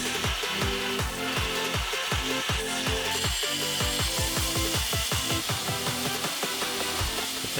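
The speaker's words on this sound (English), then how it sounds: "it's time to dial it in on the grinder." A knife blank of exotic metals is pressed against a belt grinder that whines steadily and loudly, with rhythmic scraping pulses as the steel is worked across the belt. No voices.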